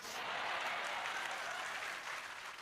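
An audience claps steadily through an Islamic sermon, a dense, even wash of applause that holds at full strength from start to finish with no voices over it.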